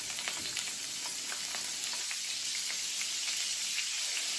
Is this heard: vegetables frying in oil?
yes